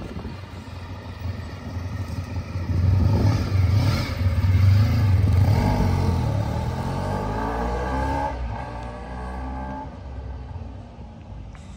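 Honda RC30 motorcycle engine running on a public road, a steady loud drone that swells and rises in pitch through the middle as it accelerates, then settles back to a constant hum.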